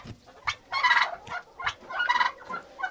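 An adult turkey gobbles in a farmyard poultry pen: two loud, rattling bursts a second or so apart, close to the listener, with softer fowl sounds between.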